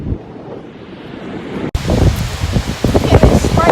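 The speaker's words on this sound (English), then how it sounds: "We're now behind the waterfall. We're just walking around behind it." A waterfall in Iceland heard from the walkway behind the falling water: a steady, loud, full rushing roar with wind buffeting the microphone, growing denser and louder after a brief cut partway through.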